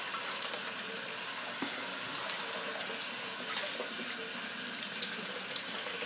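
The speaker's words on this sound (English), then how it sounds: "You rinse it and press it back so it goes right back into its original curl." Lukewarm to cool tap water runs steadily as hair is rinsed under the faucet, a close, continuous splashing rush with no voices.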